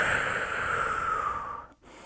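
Steady breathing during an intermediate vinyasa yoga pose, a soft continuous airy exhale lasting over a second and a half before a brief pause, then resuming quietly, close and alone.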